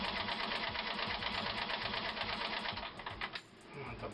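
A boat engine cranks and runs for a short burst, a steady mechanical chatter that then drops off near the end.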